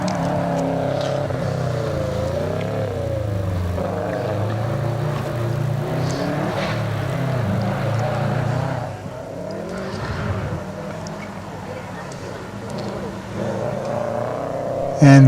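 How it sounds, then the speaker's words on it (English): A bright blue Subaru WRX STI climbs a hillclimb course at the Legend of the Lakes event, its engine revving and changing pitch through gear shifts as it pulls away, under a commentator's voice. "Ben Trelaw's up the hill now in the bright blue WRX STI"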